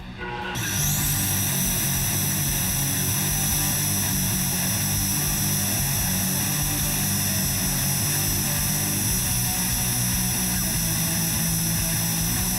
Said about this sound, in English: Gotta crank the mill up as high as it'll go.